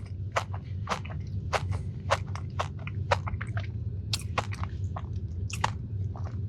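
Close, crisp crunching of a Dubai chocolate brownie being chewed, a steady run of sharp bites and crackles for several seconds, loud and up front with no talking.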